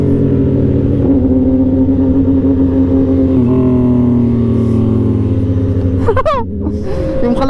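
A Honda CB650R motorcycle engine idles loud and close with a steady low rumble, a few tonal shifts along the way, and a brief rev near the end.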